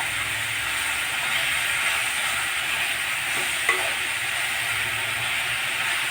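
Dill greens sizzle steadily in hot oil with garlic and green chili tempering, a constant crackling hiss with one brief clink of a utensil partway through.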